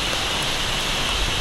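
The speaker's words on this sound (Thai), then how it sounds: "ตอนนี้ฝนก็เริ่มตกหนักแล้วครับ" Heavy rain pours steadily in a forest at Chiang Dao, a dense, even hiss of water on leaves with no break across the short stretch and no voices.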